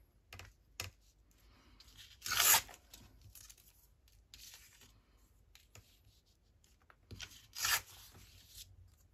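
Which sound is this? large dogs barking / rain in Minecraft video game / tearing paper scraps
tearing paper scraps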